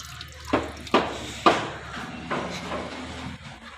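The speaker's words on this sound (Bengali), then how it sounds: "এই যে ভিজিয়ে রেখেছি, এটা এখন মেজে নেবো।" Soaked puja utensils are washed under a running tap, with three sharp metallic clinks close by early on over a steady wash of water noise.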